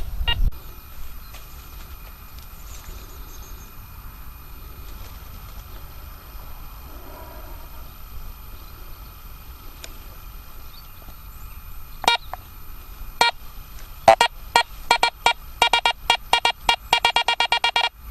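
A metal detector on heavily ionised ground gives a steady tone, then a quickening run of sharp, loud beeps and chirps from false signals near the end, close to the mic.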